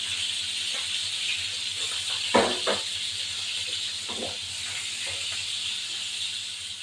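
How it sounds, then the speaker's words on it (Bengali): A steady, loud hiss of hilsa fish frying in hot oil runs throughout, with a couple of brief clanks partway through. "এবার আমি এটা ভাজাবো"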